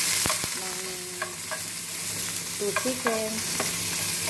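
Carrots stir-fried for chopsuey in a home kitchen, a continuous close sizzle with repeated metallic scrapes and clinks of the utensil against the pan, one brief spoken word near the end.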